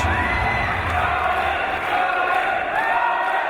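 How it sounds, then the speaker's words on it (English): A large indoor British wrestling crowd roars steadily during a title match, a dense wash of cheering, booing and shouting voices that never lets up. "an interesting mix of boos and cheers."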